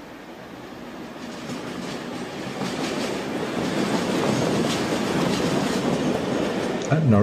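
A Class 37 diesel locomotive with a short rake of coaches passes near Norwich Crown Point depot junction, a steady rumble and clickety-clack of wheels building and holding at moderate distance, with no talking.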